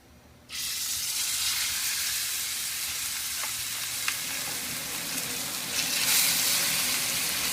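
Thick steaks go into a frying pan of smoking-hot oil and sear with a sudden loud, steady sizzle that continues close and unbroken, with a few small pops and crackles.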